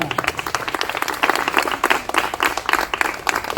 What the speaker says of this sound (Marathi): पुन्हा एकदा जोरदार टाळ्या